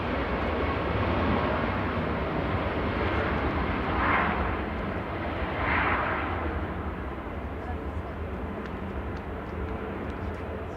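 A Ryanair airliner at Manchester Airport gives off a broad, steady engine roar that swells and fades slightly, heard from outdoors with a couple of brief bursts of voices.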